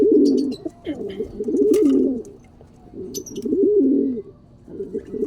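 Pigeons coo up close in repeated throaty, rolling phrases with short pauses between them, and a few faint chirps sit in the background.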